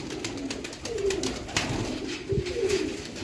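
Pigeons sold as guaranteed flying breed youngsters coo repeatedly at close range, low rolling calls recurring over a steady background of other birds and noise.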